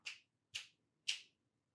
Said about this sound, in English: if I click or snap near the hydrophone